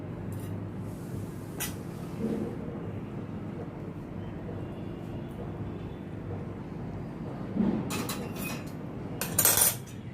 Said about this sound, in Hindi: इसको अच्छी तरह से मिक्स करके अभी इसको मैं मिर्ची में डालती हूँ।